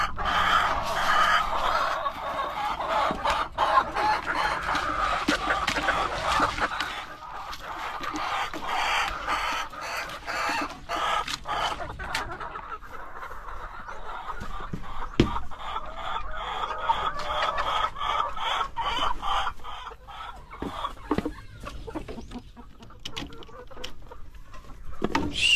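Dekalb Brown laying hens cluck steadily and close by in a coop, with many overlapping clucks and short calls forming a dense, continuous flock chatter that runs throughout.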